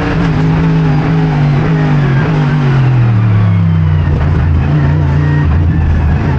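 Mercedes AMG GT3 race car at Monza, its engine loud and close as revs fall under braking through downshifts, then climb again on acceleration out of the chicane, a harsh continuous roar with no talk.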